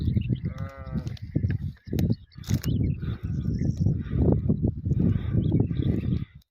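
Sheep in a flock bleat again and again, loud and close, their overlapping calls filling the whole stretch outdoors.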